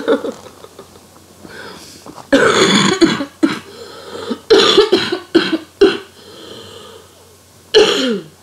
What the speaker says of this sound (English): I am so sick of coughing.